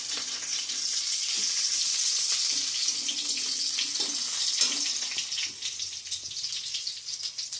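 Cinnamon, garam masala and cardamom sizzle in hot oil in a home kitchen, a loud, steady frying hiss close by with faint stirring scrapes, no voices.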